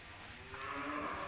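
A cow of the rambunan type, which has calved once and recently had its calf weaned, gives a low, drawn-out moo that swells slightly partway through, close and clear with no talk.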